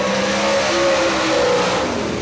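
Bobby Giffen's number 97 GRT Monte Carlo race car, the Stanley Best Heating and Air Racing Special, running a qualifying lap at Atomic Speedway oval; a loud, steady engine drone holds with slight pitch shifts and no talk.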